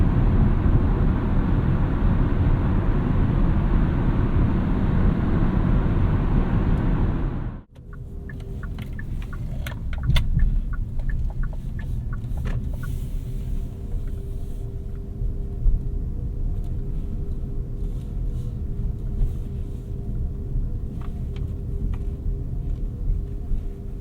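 A 2023 Kia Sportage Hybrid LX drives under light throttle, a steady low rumble and hum from inside the cabin, with a loud roar cutting off abruptly partway through and a quieter, even drone continuing afterward.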